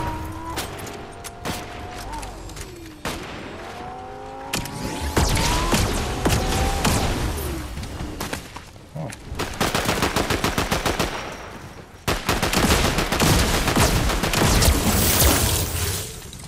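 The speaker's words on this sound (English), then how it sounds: "he's shooting at me." Gunfire in a Star Wars video game: bursts of rapid automatic shots and single cracks, loud and close, with booms and clattering in the game mix, building to dense sustained fire near the end.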